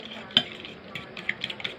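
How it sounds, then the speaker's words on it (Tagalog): An egg is beaten in a bowl for eggplant omelette (tortang talong), giving soft, quick clinks and taps of utensil against the dish, one sharper knock near the start, with faint kitchen background. "Shake na naman natin guys yung egg."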